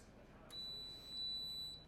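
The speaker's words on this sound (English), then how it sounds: "Timer's done." A kitchen-style timer signals the end of curing time during assembly of a golf driver, giving a thin high-pitched electronic beep that holds for about a second over a faint background hum.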